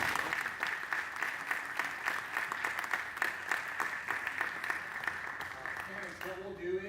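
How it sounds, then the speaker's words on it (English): Applause from a school board meeting audience celebrating students' perfect test scores, a steady dense patter of many hands clapping throughout, fairly loud and sustained, tapering off at the very end. "Round of applause"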